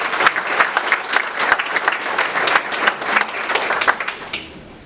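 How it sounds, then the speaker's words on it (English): A school audience claps for a middle school principal at a business community meeting, a dense round of applause that stays full for about four seconds and then fades out. "Please give him a round of applause."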